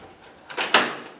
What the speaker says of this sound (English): Old vintage door lock fixed. Latching.